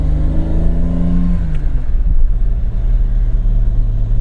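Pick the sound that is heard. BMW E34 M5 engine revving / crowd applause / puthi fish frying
BMW E34 M5 engine revving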